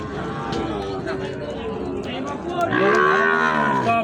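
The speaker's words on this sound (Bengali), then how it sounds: "সাইওয়াল জাতের ষাঁড় বাছুর" Sahiwal breed bull calves at a cattle market low nearby, with a deep, drawn-out moo swelling louder near the end over steady crowd noise and voices.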